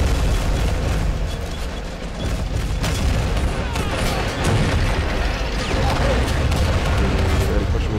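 Light tanks firing during a toy-soldier battle in the Army Men of War strategy game, a dense, continuous roar of gunfire and booms with several sharper blasts over steady battle noise, alongside voices.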